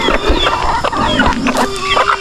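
A tethered chicken on a small farm clucks in a few short bursts amid other close barnyard sounds, fairly loud and near.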